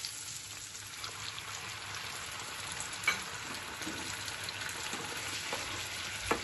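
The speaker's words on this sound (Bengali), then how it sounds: "এই সসটা ফ্রাইং প্যানে ঢেলে দিচ্ছি।" Sauce mixture for chilli fish sizzles in a frying pan, a steady, fairly quiet crackling hiss that runs throughout, with a couple of brief sharper pops and no talking.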